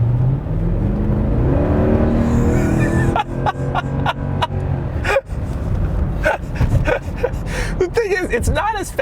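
A Mercedes R63 AMG minivan with a 500-horsepower engine accelerates at about half throttle, its engine note rising steadily from inside the cabin while a person talks over it.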